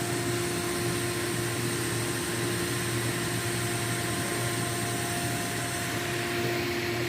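A quiet grain dryer air system runs at night on a farm at harvest's end, giving a steady, even blowing hum with constant tonal whine, unbroken and alone throughout.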